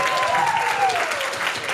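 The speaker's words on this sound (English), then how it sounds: "So can we get another round of applause?" Audience applause at a talk on animal influencers and climate fatigue, a dense steady wash of many hands clapping at moderate loudness, with a faint voice or tone sliding underneath.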